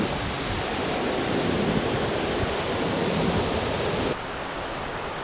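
A waterfall near Cradle Mountain roars as a dense, continuous broadband rush, loud and close, dropping slightly in level toward the end but never pausing.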